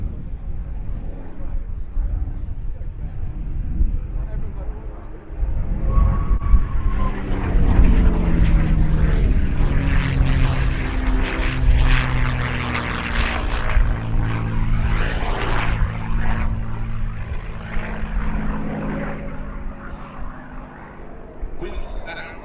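A P-51 Mustang with a Merlin engine flies past at an airshow, its propeller drone swelling from a distant hum to a loud, sustained roar and then easing away as a voice talks over it.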